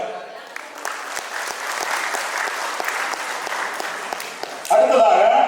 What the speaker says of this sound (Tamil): அதுக்கு ஒரு கரகோஷங்கள்.